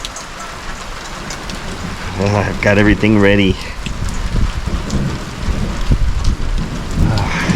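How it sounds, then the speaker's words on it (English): Heavy rain pours in a steady roar during a thunderstorm, with low rumbling beneath it, while a voice talks over the downpour. "right when the rain started"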